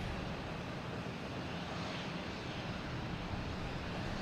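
An Aer Lingus Airbus A321neo heading to Shannon, heard at Boston Logan Airport as a continuous loud broadband jet engine roar that holds steady throughout.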